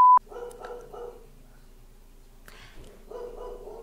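Polenta, a pet dog, lets out two bursts of several sharp, fairly close barks separated by a quiet pause, with a short electronic beep at the very start.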